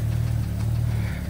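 BMW E31 with a V12 engine running at a steady low idle rumble that wavers slightly near the end, close to the mic, with no talking.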